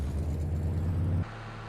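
John Deere 6M tractor engine in Farming Simulator 22, a low steady rumbling drone that drops abruptly to a quieter idle hum near the end, with no voices.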